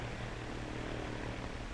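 A 1933 propeller airliner drones steadily in flight, a loud, even engine roar with a low throbbing rumble that stays constant and fills the cabin.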